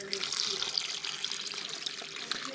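Apple cider poured into a turkey brine with herbs, a steady splashing trickle under quiet background speech.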